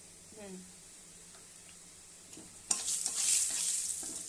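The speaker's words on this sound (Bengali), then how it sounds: "এখন আমি ডালটা সম্বারা দেব। তেলের মধ্যে শুকনো লঙ্কা দিয়েছি, তেজপাতা, জিরে, অল্প একটু হিং দিব" Dried red chillies, bay leaf and cumin go into hot oil to make a tempering for Bengali dal. Quiet stirring comes first, then a loud, close sizzle bursts up partway through and keeps crackling.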